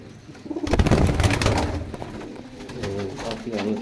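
Pigeons coo close by, soft throaty rolling calls repeating over faint background noise and rustling.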